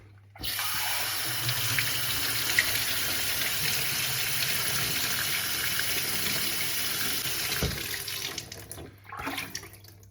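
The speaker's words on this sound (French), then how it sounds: "le débit initial de mon robinet est à 10 litres par minute" Water runs steadily from a kitchen faucet, a continuous close hiss after an abrupt start, then cuts off near the end.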